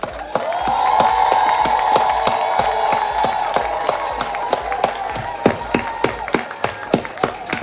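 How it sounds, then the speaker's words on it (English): Applause at a sandals flagship store opening, starting as a sustained crowd clap under a held tone that thins into a few loud, spaced individual claps near the end. "Please give her a resounding, make sure she can hear because she's shy, a round of applause"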